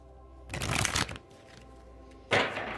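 Oracle cards from an Angels of Atlantis deck being shuffled in two quick riffling bursts, a longer one followed by a short one after a pause, close and fairly quiet with no talk.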